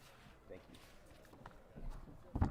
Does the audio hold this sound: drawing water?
no